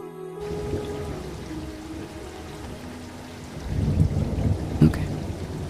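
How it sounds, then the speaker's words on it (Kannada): Steady rain hisses throughout, then low thunder rumbles swell and crack near the end. "ಬೇಕು ಅಂದರೆ 1 ಸೆಕೆಂಡ್ ಮಳೆ ಬರೆಸ್ತೀನಿ"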